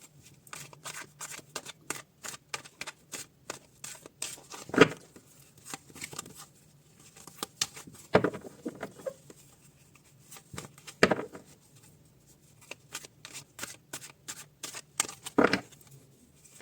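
Two tarot card decks shuffled by hand, a long run of quick crisp riffling flicks with several louder thumps as the cards are bridged and tapped, close and quiet, no talk.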